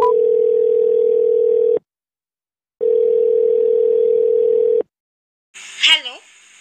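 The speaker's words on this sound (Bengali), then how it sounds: "ঠিক তখনই অর্ক তার বন্ধু ঈশানীকে ফোন করে।" A telephone dial tone sounds in two long steady bursts separated by silence, followed by a brief warbling electronic call tone, clear and alone.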